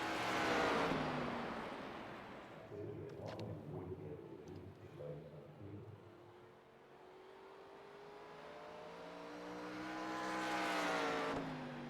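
Legends stock cars race on a track in a racing video game, engines whining and rising in pitch as cars sweep past, one loud pass at the start and another building near the end, with a commentator talking over them.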